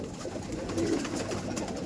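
A domestic pigeon in a loft coos softly once or twice, faint and close, with no voices.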